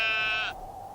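A sheep gives one loud, close bleat lasting about half a second, then it cuts off into quiet background.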